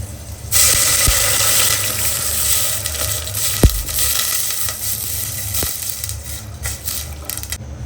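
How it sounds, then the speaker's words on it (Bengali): Water is poured into a hot pan of pasta, hissing and sizzling loudly for several seconds, with a few clinks of utensils against the pan. "এর মধ্যে আমি দিয়ে দিব এখানে পানি"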